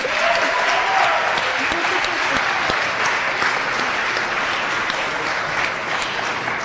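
Loud, even applause fills the room as an evening audience claps for the discussion leaders, a sustained crowd of hands with scattered voices briefly audible early on.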